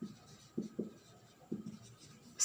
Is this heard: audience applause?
no